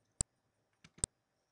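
Sharp mouse clicks while using restaurant point-of-sale software: one crisp click, then a softer pair close together, near and quiet in a silent room.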